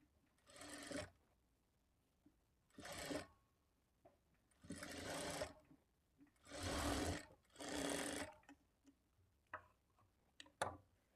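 A sewing machine stitches folded lining fabric for a blouse in five separate bursts of steady running, each lasting about a second, with quiet pauses between them and a few faint clicks near the end.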